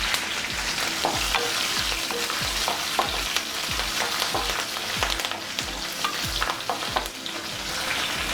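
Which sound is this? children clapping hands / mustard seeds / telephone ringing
mustard seeds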